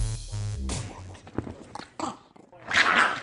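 A small dog gives a brief, low growl mixed with whimpering noises, close and fairly quiet, in a short burst among other soft sounds.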